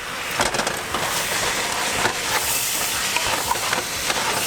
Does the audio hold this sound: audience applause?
no